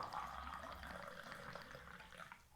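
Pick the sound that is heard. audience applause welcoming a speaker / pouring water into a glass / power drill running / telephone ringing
pouring water into a glass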